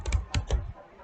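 A computer keyboard being typed on, a quick cluster of four crisp key clicks close up, then quiet.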